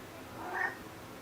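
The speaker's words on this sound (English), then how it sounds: "I've got my cat rubbing on me." A house cat gives a single short, soft meow at close range against a steady low background hum, with no talking.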